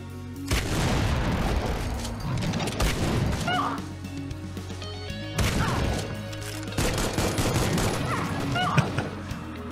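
A shotgun fires in the video game Supplice: two heavy, booming multi-shot blasts about five seconds apart, each trailing into rumbling debris and crashes, over constant loud game noise.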